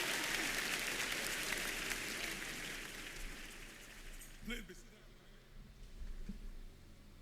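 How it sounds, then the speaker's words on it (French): A church congregation applauds the Lord during a bilingual French and English worship service, a dense wash of clapping that is loudest at first and gradually thins, with a few voices rising near the end. "Give the Lord the biggest hand of praise."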